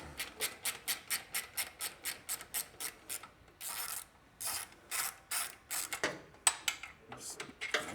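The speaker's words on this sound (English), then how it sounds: "we're going to loosen up the other clamp here for the back pipe" Socket ratchet loosening an exhaust clamp on the back pipe of a 2024 Triumph Bonneville Bobber, a quick run of close, crisp ratcheting clicks, then longer cranking bursts and a few scattered clicks.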